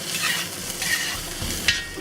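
Tofu and assorted mushrooms searing in a pan are tossed, giving a steady close sizzle with brief scraping rustles as the pieces shift, no talking.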